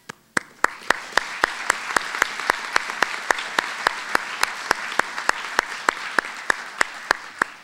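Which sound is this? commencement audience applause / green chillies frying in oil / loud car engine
commencement audience applause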